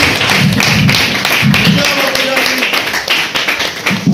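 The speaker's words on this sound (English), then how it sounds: "keep that applause rolling for the next comedian" Audience applause at a live comedy show in Kings Cross, a dense steady patter of clapping filling the room for the full stretch, with some crowd noise mixed in.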